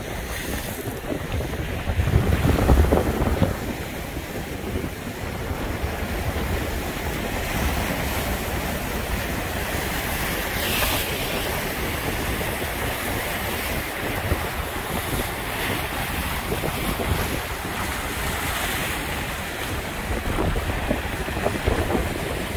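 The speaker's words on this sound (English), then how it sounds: "It is so windy out here." Strong wind roars and buffets the microphone nonstop on the Lake Erie shore, with waves washing faintly underneath.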